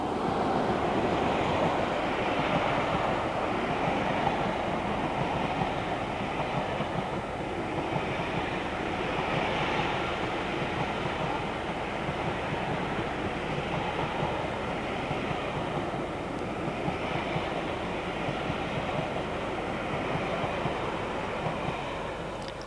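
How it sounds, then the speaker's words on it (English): An empty stock train runs from Bounds Green to Victoria, a continuous rolling rumble and wheel noise that holds at an even, moderate level for over twenty seconds with no voices. "Next is an empty stock working from Bounds Green to Victoria in preparation for the Southampton Docker rail"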